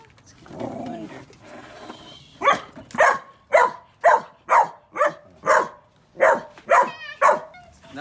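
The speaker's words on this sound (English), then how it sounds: "He's barking at it." A dog barks repeatedly in a backyard by a pond, about nine sharp, evenly spaced barks close to the listener, preceded by a faint voice and some low rumbling.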